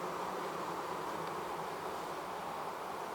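Honey bees buzz inside an open hive during a spring inspection, a steady, dense, close hum that holds evenly throughout with no voices.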